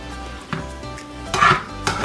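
A utensil scrapes and knocks against a pan as fajita peppers and vegetables are tossed in seasoning, with a steady low background hum, a few soft clatters and one louder scraping stir near the middle, close up and with no one talking.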